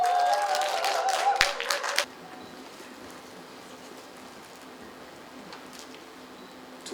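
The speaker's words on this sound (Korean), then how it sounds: "큰 박수로 응원해 주시기 바랍니다." An audience claps for a presenter at a volunteer talk event. A dense burst of applause lasts about two seconds and then stops abruptly, leaving quiet room tone with faint ticks.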